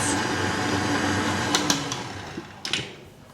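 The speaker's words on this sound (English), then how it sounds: "we're gonna blend it just a little bit more" An electric hand mixer blends chocolate chip cookie dough in a bowl, a steady motor whir running throughout with a few sharp clicks and knocks of the beaters against the bowl near the end.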